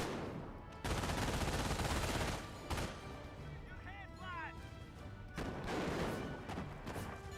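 An MG42 machine gun fires in Company of Heroes, a World War II strategy game, in long, loud sustained bursts separated by quieter gaps, while a voice speaks between and over the firing.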